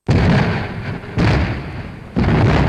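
Wartime explosions from a 1962 film: three heavy booms in succession, each striking hard and then trailing off in a rumbling decay before the next blast lands.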